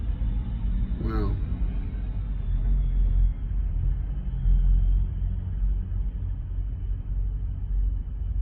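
A vehicle pulling a trailer loaded with junk rumbles past up close, a steady low roar that swells and fades, with a brief whistle-like squeal near the start.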